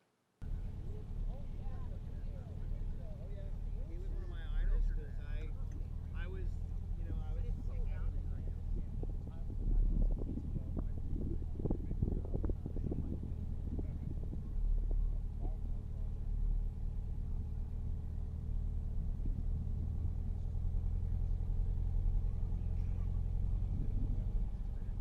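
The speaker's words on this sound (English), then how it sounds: "So this is us driving on to the grass, getting ready, getting staged" Several Porsche 356 cars creeping onto grass to be staged at an outdoor show, low engine rumbles and idling under wind buffeting, with voices talking intermittently.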